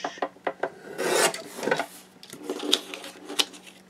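A sheet of 12 x 12 cardstock is sliced into 1-inch strips on a paper trimmer, making short scraping, rasping strokes with a longer drawn cut in the middle, close and clear with no talking.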